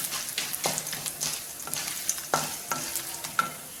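Cashews and peanuts roast in a pan with a soft sizzle, punctuated by repeated sharp spoon scrapes and clinks at close range.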